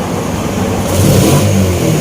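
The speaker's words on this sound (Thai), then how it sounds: "เครื่องยนต์ติดแล้ว" A loud Spark 135 carbureted motorcycle engine runs close by, steady rumble rising as it revs briefly, then settling back to a throaty idle.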